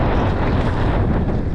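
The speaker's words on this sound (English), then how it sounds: "Look at the wind." Strong wind buffets the microphone at a wet enduro hill climb, a loud, steady low roar with constant gusting rumble and no pause.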